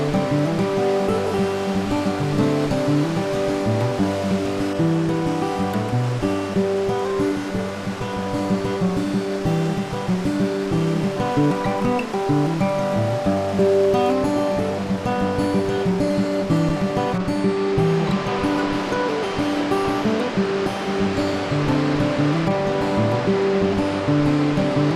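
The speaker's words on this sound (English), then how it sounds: "The waterfalls of the Presque Isle are the largest in the park and the second largest in the state." A steady, loud roar of falling water from the Presque Isle River waterfalls, the largest in the park and second largest in the state, continuous and unbroken throughout, with sustained tonal layers running over the rush.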